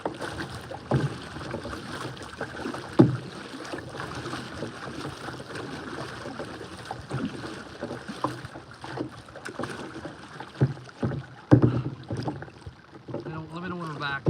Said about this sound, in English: I'll stop paddling.